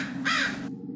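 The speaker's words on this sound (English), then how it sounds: "The rustling of crows." Crows caw in a horror video game, a single loud, harsh burst in the upper range that cuts off abruptly, over a steady low game ambience.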